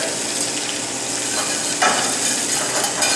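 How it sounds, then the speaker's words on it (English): Garlic sautéing in a pan, a loud close crackling sizzle that runs steadily throughout, with a brief scrape of stirring partway through. "So we're going to saute that garlic up a little bit"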